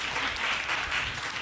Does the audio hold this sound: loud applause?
yes